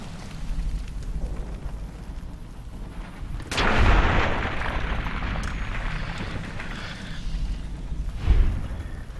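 Heavy gunfire in Fallout: New Vegas, with booming shots around four and eight seconds over a dense, rumbling game soundscape, loud and close, with no talking.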